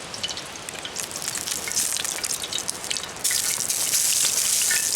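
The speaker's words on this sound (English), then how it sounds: "As you can see, it's splattered in that pan pretty good, and that rain hits it." Light rain patters and sizzles on a hot, splattered frying pan at an Adirondack campsite before meat goes on, a steady crackling hiss that grows louder and denser midway, with no talking.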